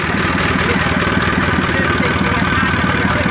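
A freshly overhauled Isuzu 4HF1 diesel engine idles steadily and close up, with an even, continuous rumble throughout.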